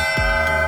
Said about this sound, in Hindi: मस्त घंटी बजाएंगे क्योंकि ऐसा कहा गया है कि घंटी बजाने से सारी मनोकामनाएं पूरी होती है